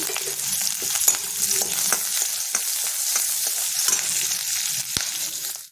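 Onion, garlic and curry leaves sizzle steadily in hot tempering oil for a toor dal pachadi, with a dense crackling hiss and occasional louder pops and stirring clicks, close by and with no voices.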